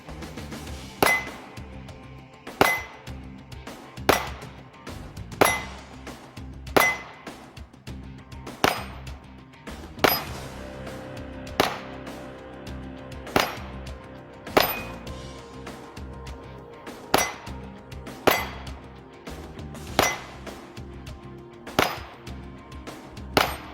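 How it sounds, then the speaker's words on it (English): A Smith & Wesson M&P 9mm pistol fires about fifteen sharp, evenly spaced shots, each a crisp bang with a brief ringing tail, loud and close with no talking. "Now, for comparison's sake, let's try that with a 9mm. This one's a Smith & Wesson M&P."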